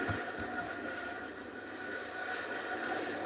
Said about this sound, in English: And it's a Dreamliner. Yeah, it's going to have a good run up, isn't it?